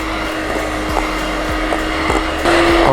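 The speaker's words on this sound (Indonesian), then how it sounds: "lalu kita mixer kembali sampai tercampur dengan rata ya" An electric hand mixer runs steadily and loudly, whipping cappuccino cream for a dome choco cappuccino cake, with a few rhythmic knocks against the bowl and a slight rise in pitch near the end.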